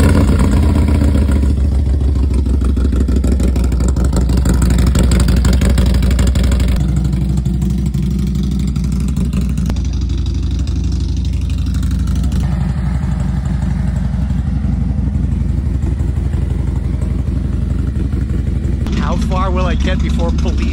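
A motorcycle left unused for three weeks is started cold and idles with a steady low engine rumble close by for the whole stretch, with a brief rev near the end.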